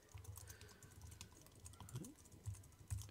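Fingers typing on a computer keyboard, a quiet run of irregular key clicks with a few heavier taps toward the end, close and alone.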